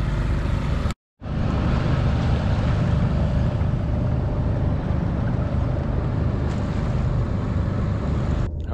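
Mini Transat sailboat under way at a race start line off Hong Kong, a steady loud rush of wind and water noise with no talk, briefly cut out near the start.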